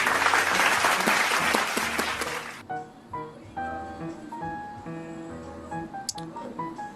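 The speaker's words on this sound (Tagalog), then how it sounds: "It's a crowd." Crowd applause as a guessing-game sound cue, a dense burst of clapping for about two and a half seconds that cuts off abruptly, followed by light tonal game effects.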